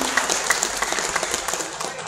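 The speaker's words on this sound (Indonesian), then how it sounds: "Terima kasih, tepuk tangan untuk bagian sound system." Audience clapping at a public talk in Riau, a thanks to the sound system crew, comes as a short burst of scattered, moderately loud hand claps.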